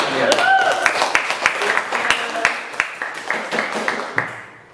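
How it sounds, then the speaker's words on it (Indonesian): Schoolchildren clap together in a classroom, a steady series of loud, crisp claps with scattered voices underneath, fading out at the end. "tepuk tangan anak sekalian."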